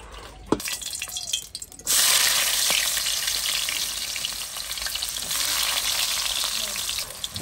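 Fish curry with onion and garlic paste sizzles and fries loudly in a pan, a steady crackling hiss that bursts in after a quieter moment and continues close by with small drips and stirs.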